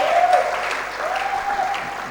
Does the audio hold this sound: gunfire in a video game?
no